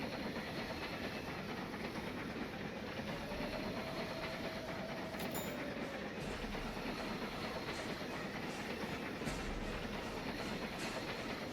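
Train sound in a video game: a steady, loud rolling rumble with faint rhythmic clatter and hiss, continuous throughout with no talking.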